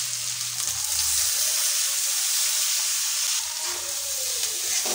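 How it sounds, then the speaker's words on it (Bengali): Washed Gobindobhog rice hits a hot pan with ginger paste and turmeric for pulao, sending up a steady bright sizzle and hiss that holds loud and close throughout, briefly swelling as the grains settle. "এবার দিয়ে দেবো ধুয়ে রাখা গোবিন্দভোগ চাল।"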